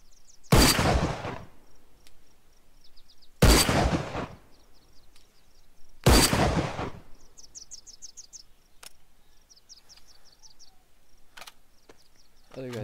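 SVD rifle shots in a video game crack three times at even intervals, each a sharp loud report with a short tail, over a steady backdrop of chirping crickets and a few faint clicks.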